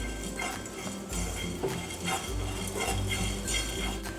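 A utensil stirs fenugreek and cumin seeds roasting in a pan, giving light metallic scrapes and clinks in an irregular rhythm, close and modest in level, with no talking.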